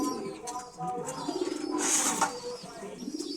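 Pigeons in a breeding loft coo softly and repeatedly at close range, with faint chirps and a brief rustle mixed in, set against a steady background hum.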